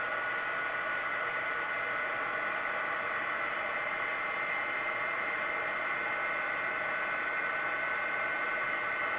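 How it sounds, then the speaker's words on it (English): A heat embossing tool blows a steady, close, hair-dryer-like whoosh of hot air that melts embossing powder, holding an even level throughout with no voices. "I love heat embossing."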